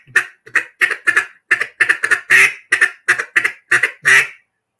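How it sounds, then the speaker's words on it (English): A feeding duck quacks in a quick, rhythmic run of about a dozen short, loud, close calls, alone with no voices, then stops. "now this is what a duck sounds like when he's feeding."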